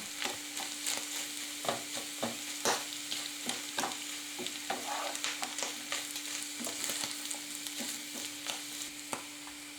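Honey mushrooms and onion fry in a pan as a spoon stirs them, with a steady close sizzle and a series of sharp scraping and clicking strokes throughout, no voices.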